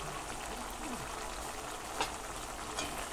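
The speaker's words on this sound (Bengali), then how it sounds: "আর কেটে রাখা টমেটোগুলোকে দিয়ে দিলাম।" Chopped tomatoes fry in oil with spices and turmeric, giving a faint, even crackling sizzle with a couple of soft knocks from stirring.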